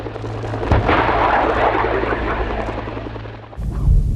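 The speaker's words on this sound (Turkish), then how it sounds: "20 milimetrelik toplar" Rapid 20 mm cannon fire roars continuously at a military live-fire exercise with jets and attack helicopters, a dense rumbling barrage at a distance that cuts off near the end before another burst begins.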